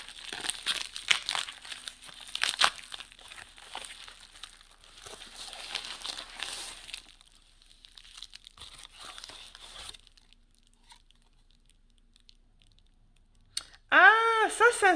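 A paper envelope is opened and handled, giving close crinkling, tearing and rustling bursts through the first ten seconds, then near silence before a short sharp sound near the end.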